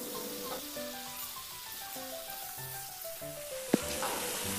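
Green chilies go into a hot pan and sizzle softly and continuously, with a faint spatter throughout and one sharp clink near the end; no voices are heard.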